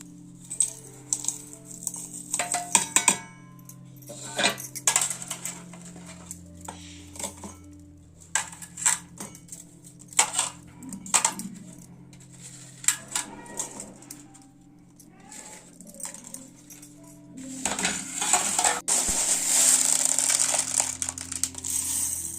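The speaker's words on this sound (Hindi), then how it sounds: "अब ये सबला एक साथ मिक्सी में पीस लेना है" Scattered clattering knocks, then a loud, steady grinding whir from a kitchen mixer grinding whole spices takes over near the end.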